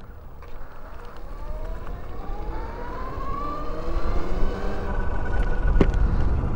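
NIU XQi3 electric motorcycle riding, its geared motor giving a rising whine that climbs in pitch as speed builds, under steady road and wind rumble, fairly quiet overall.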